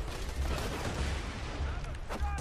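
Rapid bursts of gunfire in the video game Borderlands 2 crackle continuously in a dense, noisy mix, with faint voices underneath.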